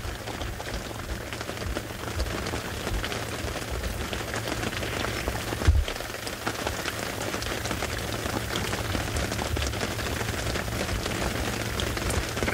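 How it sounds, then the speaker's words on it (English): Heavy rain pours steadily onto a rainforest canopy, a dense, continuous patter that stays constant throughout with no voices. "all you can hear is the rain"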